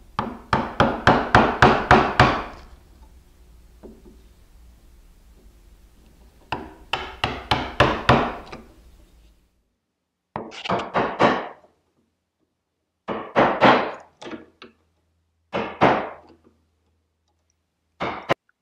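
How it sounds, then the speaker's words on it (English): Small chisels struck by a mallet, cutting a carved wooden figure. Bursts of rapid sharp taps come in clusters, with quiet gaps between groups. Strikes are close and crisp and no voice is heard. "I'm going to use some smaller chisels because I don't want to remove too much material at a time"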